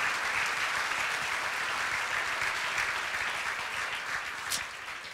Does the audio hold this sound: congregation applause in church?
yes